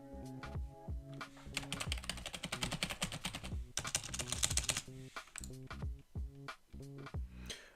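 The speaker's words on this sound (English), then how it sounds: "keyboard ASMR." Fast, clattering typing on a computer keyboard in bursts of rapid keystrokes, close and fairly quiet, with brief pauses between runs.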